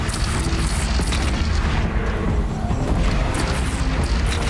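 Heavy video game cannon booms in Horizon Zero Dawn merge into a dense, continuous rumble, loud and close, with blasts piling on top of one another.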